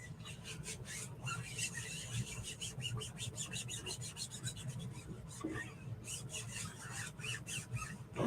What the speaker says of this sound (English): I'm going to burnish around all of the letters to make sure I have a good seal